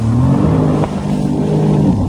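A loud, close jet ski engine roars at high revs, around 6,000 rpm, in a sustained drone, holding steady without changing pitch as it fails to pull, with no one speaking.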